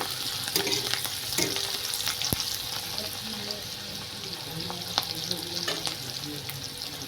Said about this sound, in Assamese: পিঁয়াজটো দি পিনি অকণমান ভাজিম